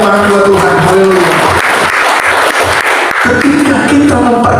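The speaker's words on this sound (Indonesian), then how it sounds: "Berikan tepuk tangan buat Tuhan" Applause from a church congregation at a Jakarta family gathering rises under a preacher's amplified voice, a broad wash of clapping mixed with loud speech throughout.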